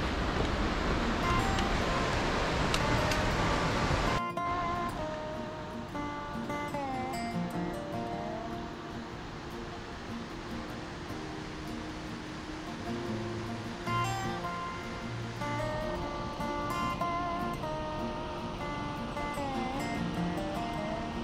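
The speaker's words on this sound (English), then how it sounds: "The sound of the river," The Shrikhola River rushes through a Himalayan pine forest at high altitude as a continuous broadband roar, loud at first and then softer and steady. Faint tonal sounds drift in now and then.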